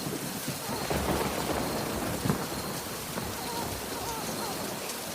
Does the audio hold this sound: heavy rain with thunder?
yes